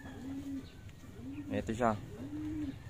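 A racing pigeon gives soft, low cooing calls, a few rolling coos close by, with brief talk in the background.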